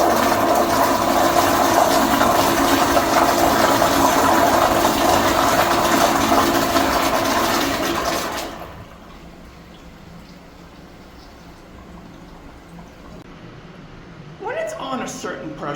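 A 1.6 gallon Eljer Auburn blowout toilet flushes with a loud rushing surge of water for about eight seconds, then drops to a quieter trickle and refill hiss while a person talks near the end.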